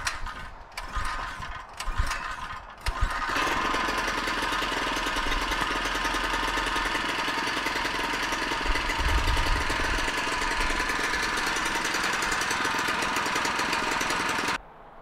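Small Harbor Freight engine running with the choke fully on, a few rough catches before it settles into a loud, steady, buzzing idle that cuts off abruptly near the end.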